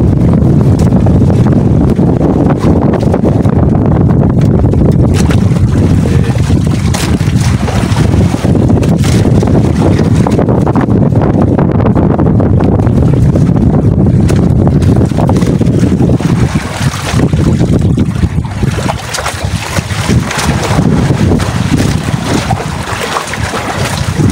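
Strong sea wind buffets a small boat drifting in a fast current, making a loud, continuous roar of wind against the microphone. Water and hull noise sit underneath.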